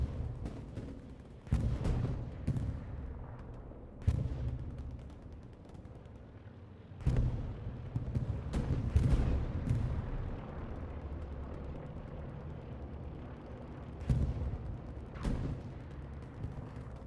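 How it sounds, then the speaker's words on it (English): Gunfights in the World War II video game Hell Let Loose on the Utah Beach map, scattered gunshots and booming blasts at irregular intervals over a continuous rumble of distant battle, with no talking. "Let's see how these gunfights go."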